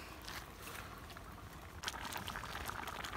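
Melted jaggery syrup poured into a pot of cherupayar and rice payasam, a soft continuous liquid pouring and bubbling sound, steady and fairly faint throughout.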